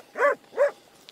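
Two short, loud barks from shaggy farm dogs working near sheep, close by and separated by a brief pause, followed by quiet outdoor background.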